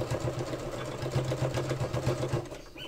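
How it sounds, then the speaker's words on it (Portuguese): Sewing machine running steadily as it stitches a reinforced seam on a small towel, a close, rhythmic mechanical chatter that slows and stops near the end. "A gente faz uma costurinha mais reforçada aqui."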